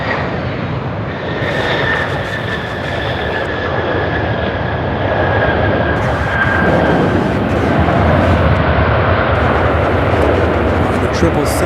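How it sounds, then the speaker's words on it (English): Airliners taking off and landing at Charlotte Douglas International Airport, including a 777 on approach, make a continuous loud jet roar with a rising engine whine, heard from nearby for the whole stretch, with a voice speaking over it. "One taking off, one landing."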